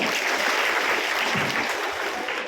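Audience applause after a speaker's address at a gathering, a dense, steady wash of clapping that stays loud and close for the whole stretch with no talking over it.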